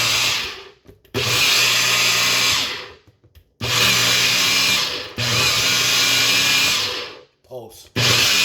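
A NutriBullet blender grinds espresso coffee beans in short pulses, a loud, close, high-pitched whirring motor roar in three long bursts with brief silent gaps between them.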